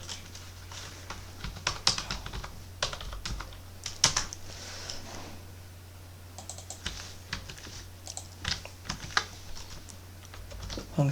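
Code is typed on a computer keyboard in scattered bursts of crisp key clicks with gaps between, close and quiet, over a low steady hum and with no talk.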